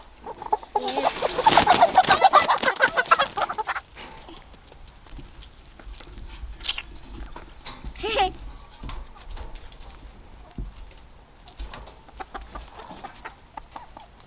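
Hens cluck loudly and busily up close at first, then quieter clucks and scattered calls continue with some background rustling and a faint voice, in a chicken run on grass.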